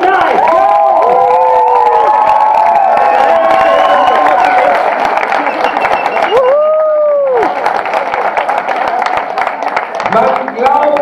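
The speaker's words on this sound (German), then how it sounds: "Und sie verdienen sich trotzdem einen großartigen Applaus." Audience at an award ceremony applauding and cheering loudly, with shouts and whoops over dense clapping; a voice calls out partway through and the clapping continues to the end.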